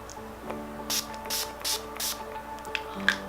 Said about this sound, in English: use the Urban Decay De-Slick Setting Spray again to set everything on my face